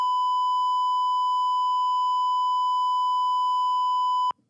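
Electronic beep from a beep sensor: a single steady, pure tone held for about four seconds, then cut off abruptly.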